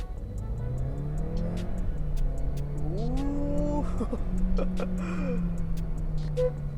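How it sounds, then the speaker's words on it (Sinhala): A Volkswagen Polo GT engine drones steadily while driving on a quiet road, rising in pitch as it accelerates and shifts, with light ticking and road noise throughout. "එන්ජින් එකේ සද්ද නම් ටිකක් ඇහෙනවා."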